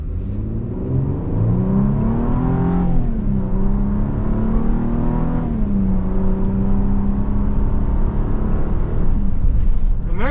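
A 2025 Infiniti QX80 full-size SUV accelerates from inside the cabin, its engine rising in pitch, dipping briefly as gears shift, then climbing again in a loud, continuous drone.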